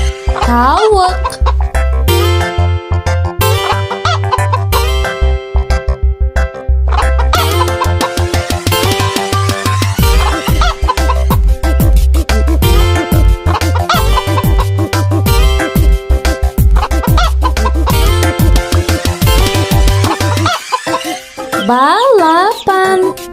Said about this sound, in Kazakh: Тауық.